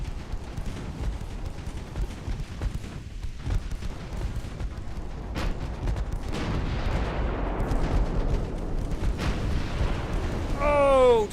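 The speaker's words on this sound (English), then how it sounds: "The unrelenting firepower of the secondaries of these battleships just ripping these light cruisers" Rapid secondary-battery gunfire from battleships pounds light cruisers in a naval warfare game, a dense continuous barrage of overlapping booms and cracks that builds louder toward the end, with a whistling shell sweep at the close.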